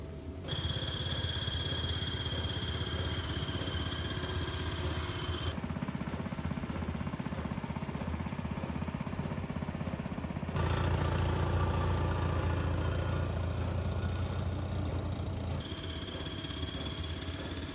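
A steady, rumbling tractor engine idles continuously, its low throb shifting in pitch and intensity a few times without pause.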